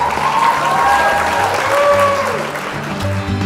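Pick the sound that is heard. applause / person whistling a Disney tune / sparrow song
applause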